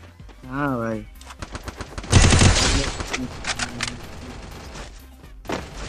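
Rapid bursts of gunfire crackle in Garena Free Fire, a dense volley of shots building after a short pause, loud and close, with a tone chime and a voice earlier.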